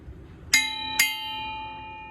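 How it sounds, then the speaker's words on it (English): Two clear bell strikes about half a second apart ring out in a quiet garage where a Duramax transmission is being reassembled, each with a bright metallic attack and a long humming decay. "Church bell."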